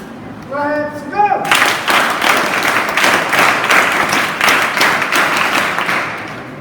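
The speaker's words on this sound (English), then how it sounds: "Hands up. Claps go." An audience at a school training camp inauguration ceremony breaks into loud, sustained applause that continues for several seconds, after a brief spoken announcement over a sound system.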